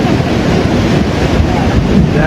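Floodwater carrying mud and debris rushes past in Ouray, Colorado, a loud steady roar that fills the whole clip, with wind buffeting the mic.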